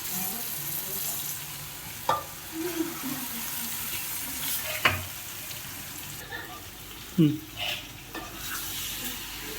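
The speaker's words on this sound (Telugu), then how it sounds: "కొంచెం మెల్లగా కలుపుకోవాలి. కలుపుతుంది పీసులు ఇట్లా ఖరాబ్ కాకుండా కలపాలి మెల్లగా." A utensil scrapes and clinks in a pan while fish pieces are stirred gently with fried onions. A soft sizzle runs underneath, and a few sharper knocks and scrapes stand out.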